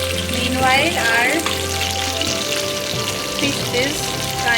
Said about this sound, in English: fish is frying nicely.